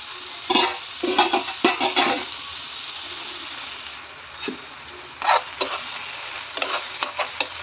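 Egg pieces for egg podi being stirred in a pan, clustered bursts of spatula scraping and clatter between quieter pauses, over a light background hiss.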